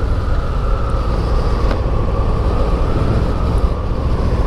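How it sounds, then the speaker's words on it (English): A steady, loud rushing roar of wind buffeting a motorcycle rider at speed, with low engine rumble underneath and no talking. "Listen to that wind."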